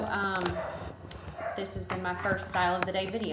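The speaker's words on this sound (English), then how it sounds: "I'm sorry about the dogs barking in the background." Several dogs bark and yip repeatedly in the background, sharp and mid-distance, while someone talks over them throughout.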